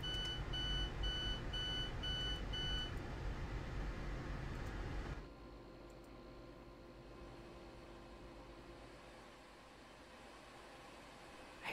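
Train Sim World door-opening warning on a Metropolitan rapid transit train: a steady, repeating electronic beep tone over cab and engine hum, stopping abruptly after about five seconds and leaving a quieter rumble.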